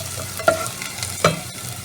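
Garlic sautéing in a pan for miki guisado, a steady close sizzle with two sharp scraping strokes of a utensil over roughly two seconds.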